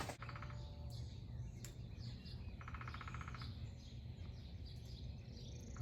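Small birds chirp in a nest tucked into a coyote, with bright repeated high peeps in short bursts over a steady outdoor background.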